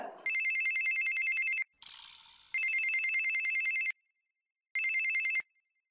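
A telephone rings in repeated electronic trills, three long bursts broken by a short hiss and gaps of silence, fairly close and clear with no one speaking.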